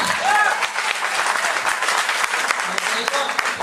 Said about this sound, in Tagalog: mukhang mahina yung palakpak na yan.